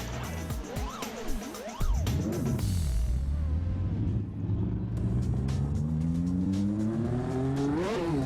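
A McLaren Formula 1 car races in a video game, engine rising and falling in sharp pitch sweeps through gear changes, then building into a long climbing whine.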